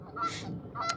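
Two loud goose honks close by, the first short and nasal, then a brief pause and a second sharper honk, with no one talking over them.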